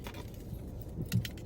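Keys on a keychain jangle faintly in a few short metallic clinks, the brightest burst coming near the end, against a quiet indoor background.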